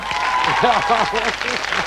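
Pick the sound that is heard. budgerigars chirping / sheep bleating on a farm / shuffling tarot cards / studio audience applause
studio audience applause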